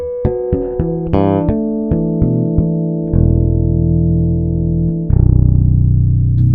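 Bell-like harmonics ring out on a five-string Ibanez EHB1505s bass through a jazz-style bridge pickup: a quick run of separate plucked chimes, then two longer sustained clusters of overlapping tones, close and clear with no talking.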